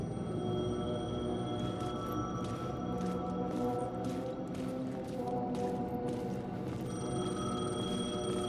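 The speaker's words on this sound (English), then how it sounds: "phone was ringing" A telephone rings in the video game Alan Wake 2, with repeated electronic ring bursts in a steady rhythm throughout, over a dark, droning ambient backdrop.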